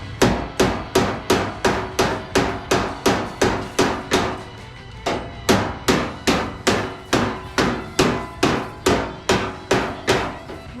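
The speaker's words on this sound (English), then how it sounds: "strike a hammer to a dolly" A hammer strikes a dolly against a car door skin in quick, evenly spaced metallic blows, loud and close, with one brief pause midway.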